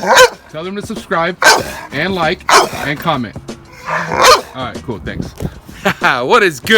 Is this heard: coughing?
no